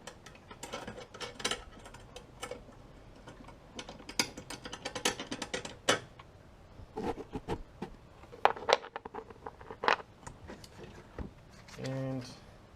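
Ratchet wrench removing M8 nuts and washers while a MANN+HUMMEL catch can is fitted, giving rapid runs of close, crisp clicking with short pauses between turns.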